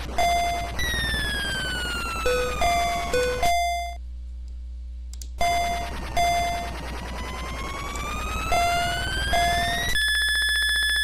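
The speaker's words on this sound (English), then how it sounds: "I really wish I knew what that beeping is." An alarm beeps in the NES game Infiltrator: short electronic beeps repeat at a steady pace over looping chiptune music, with a brief break in the music partway through.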